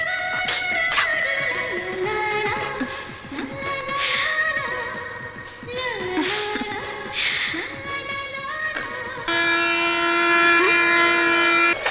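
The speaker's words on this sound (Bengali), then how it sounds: "ও গড, ট্রেনে হুইসেল দিচ্ছে।" A train horn sounds repeatedly over rumbling rail noise, ending in a loud, sustained blast close by.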